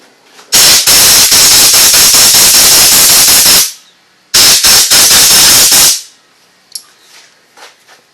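Compressed air from an air compressor nozzle blows off cleaned carburetor parts from a Troy-Bilt machine. Two loud, close hissing blasts, each a few seconds long, are cut by brief stutters, followed by quiet handling clicks.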